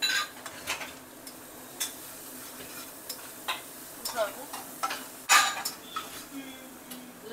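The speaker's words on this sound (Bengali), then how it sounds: "লো ফ্লেমে দিয়েছে স্যালো ফ্রাই হচ্ছে" Lote fish shallow-fries in a pan on a low flame, a faint steady sizzle under intermittent clinks and scrapes of a utensil against the pan.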